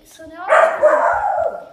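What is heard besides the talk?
dog barking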